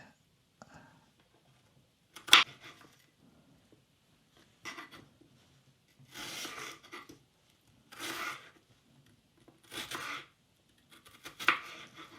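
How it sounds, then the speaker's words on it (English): A knife finely cutting shallots for chicken in red wine sauce: several separate bursts of chopping strokes spaced a second or two apart, fairly close and quiet, with brief gaps of near silence between them. "I'll cut these up quite fine"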